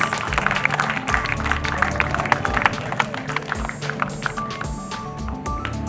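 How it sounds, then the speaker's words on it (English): Crowd at a motorcycle club's fifth anniversary celebration applauds a person coming on stage, scattered claps mixed with music-like tonal sounds and background murmur throughout. "present a huge round of applause to Arun Smoky on stage"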